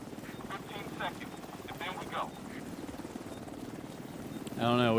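A game extraction helicopter in The Division 2 thrums steadily with rotor chop throughout, while voices talk over it and a louder tonal burst enters at the end.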